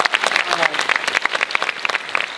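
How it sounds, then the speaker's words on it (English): A small audience gives Michael McConville a short round of applause after his presentation, brisk close clapping from a modest group with a voice faintly present beneath. "quick round of applause for Michael for a great presentation"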